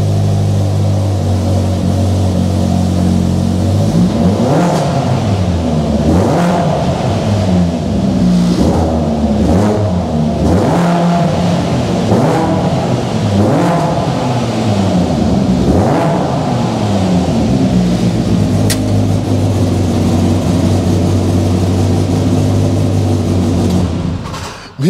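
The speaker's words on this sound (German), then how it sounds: "wie man hören kann, nicht der typische RZR-Sound, sondern hört sich schon an wie ein Rallye-Car" A warmed-up Polaris RZR Pro R side-by-side UTV engine with an EVO upgrade idles loudly, then revs repeatedly in sharp bursts before settling back to a steady rumble.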